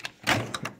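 A hotel room door in a San Francisco hotel opened with a key card: a short click, then a louder clunk of the latch and handle, followed by a couple of quick mechanical knocks, close and alone.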